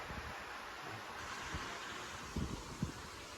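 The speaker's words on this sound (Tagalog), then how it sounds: "Ayun yung hangin ngayon, na malakas oh." Strong wind blows steadily into the microphone in Infanta, Philippines, a constant roaring rush with a few low gusty buffets.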